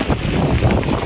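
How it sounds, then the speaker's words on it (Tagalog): Strong wind buffets the microphone in a steady, loud roar with gusty rumbling, no voices present. "Lakas po ng hangin."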